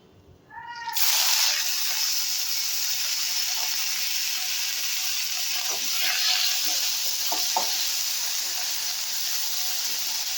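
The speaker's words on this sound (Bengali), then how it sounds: "এখন আমি ঝিঙেটা দিয়ে দেব।" Sliced ridge gourd hits hot oil with nigella seeds and starts frying, a sudden loud sizzle that settles into a steady hiss with a few small crackles throughout.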